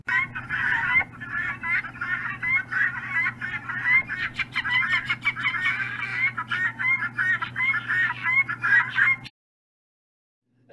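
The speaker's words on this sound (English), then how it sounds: "you just saw all those birds walking around clucking" A flock of chickens clucking as they wander around, a busy overlapping chatter of close clucks and squawks over a low steady hum, stopping abruptly near the end.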